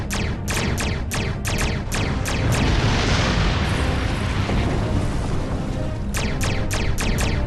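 An enemy ship explodes in Star Trek Online, a long roaring blast framed by bursts of rapid crackling weapon fire before and after, loud and dense with no speech.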